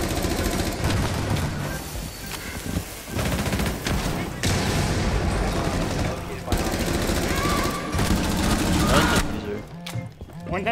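Dense machine gun bursts and overlapping gunfire from Rainbow Six Siege, loud and nearly continuous with short gaps, sustained across the whole stretch without clear talk.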